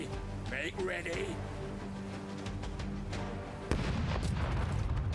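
Ship cannons fire in the pirate turn-based game Rogue Waters, heavy booming blasts that roll on continuously, with a louder impact near the end, over game sound and music and under a talking voice.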